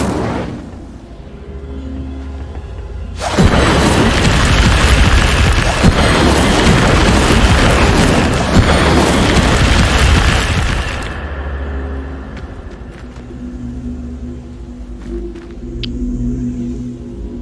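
An Incendio fire spell goes off in the Hogwarts Legacy video game: a loud, roaring burst that holds for about eight seconds, then drops back to a quieter game ambience.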